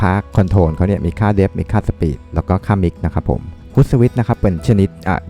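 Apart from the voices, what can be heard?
No distinct noise like a dog, phone or traffic.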